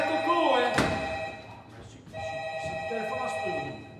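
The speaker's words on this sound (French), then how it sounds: "C'est le téléphone à ce tour." A telephone bell rings in a French stage comedy, with bright repeated rings over a room, broken by a loud thunk, with voices speaking around it.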